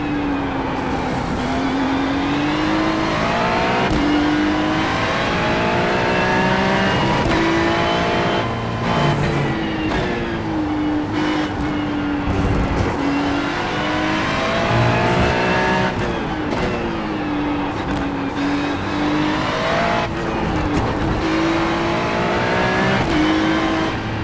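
A Ferrari GT3 race car in the iRacing simulator at VIR revs hard through the gears, its engine note climbing and dropping repeatedly with brief tyre squeal, loud and continuous throughout.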